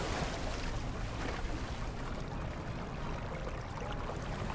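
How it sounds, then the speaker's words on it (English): Water gushes and pours steadily into a flooding room in the video game The Unfinished Swan, a dense, continuous rushing wash close by that holds an even level throughout, with no voices over it. "It's a heck of a lot of water coming in."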